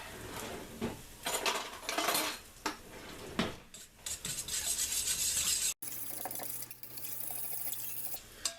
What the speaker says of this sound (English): I'm just going to whisk this together with a little whisk